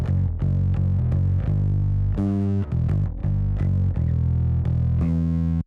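A distorted bass line from a bass stem plays loud and continuous, gritty sustained notes changing pitch in a steady rhythm with no talk over it.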